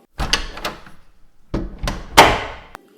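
A small room's door is handled in a quiet space: several sharp knocks and clatters in two bursts, with a louder rattling bang near the end and silence between.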